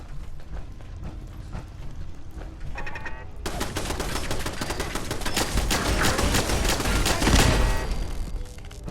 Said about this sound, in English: Why are the turrets firing on me?